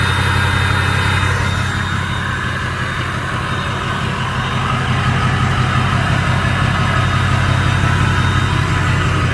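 A 2006 Ford F350 flatbed truck with a full exhaust idles steadily, a deep, even rumble that stays constant and fairly loud with no talking over it.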